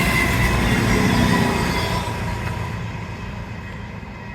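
A train passing along the sea wall near Sprey Point gives a loud, continuous close rumble of wheels on rails that slowly eases and fades as it moves away.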